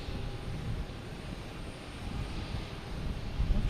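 FedEx cargo jets landing at Logan Airport, heavily loaded, give a steady broadband roar of aircraft engines at a distance, rumbling continuously with a slight swell toward the end.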